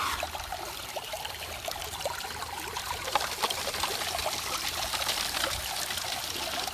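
Continuous rushing creek water with a gritty, trickling texture as gravel washes through a sluice box lined with truck bed liner, clinking on the bottom, steady and moderately close, no voices.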